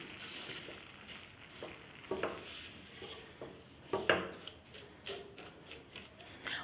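Seviyan vermicelli being stirred with sugar syrup in a pan for an Eid sweet, giving faint, scattered clinks and scrapes of a spoon against the pan at a few irregular moments over a quiet kitchen background.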